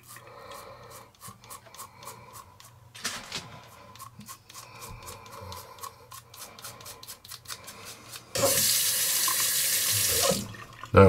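A Gillette Mach 3 razor first scrapes in a run of short, crisp strokes, then is rinsed under a running tap for about two seconds in a loud, steady gush of water that stops abruptly.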